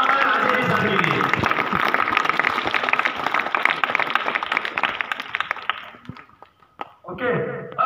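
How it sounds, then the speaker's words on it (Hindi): An audience at a Bharat Scouts and Guides event in Banswara, Rajasthan claps for the school principal, a dense burst of applause that thins out and fades, followed by a short stretch of speech. "दूसरी ताली बजा दीजिए आपके प्रिंसिपल साहब के लिए"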